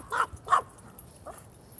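A dog barks twice in quick succession, then gives a softer third bark about a second later, fairly near, out on a group walk with several dogs while another dog roams off the leash.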